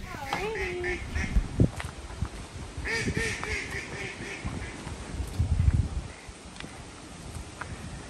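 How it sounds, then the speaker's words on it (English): Ducks quack in a busy group near a river where people walk by a narrowboat mooring, with repeated nasal calls running throughout while people chat close by. "That's a lot of ducks."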